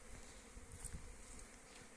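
Bees hum steadily in a low, dense drone close by at a spring apiary hive, many wings buzzing together with no voices present.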